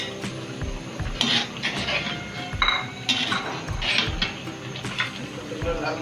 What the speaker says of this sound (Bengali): ভেজে রাখা আলুগুলো এখন এটার সাথে দিয়ে দিচ্ছি আমরা।